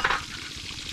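Fish frying in a pan with sizzling oil, a steady hiss with a brief louder burst at the start, close by.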